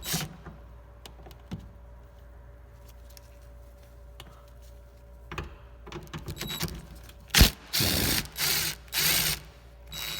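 A socket ratchet loosens 10mm nuts on a Honda Fit side mirror: scattered clicks and knocks, then loud bursts of rapid ratcheting close by.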